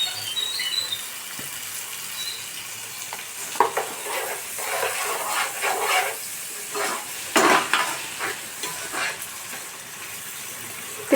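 Ginger garlic paste, salt and tomato frying in a pan for khushka rice, a steady sizzle with repeated scraping stirs and clinks of the spoon, close and loud throughout.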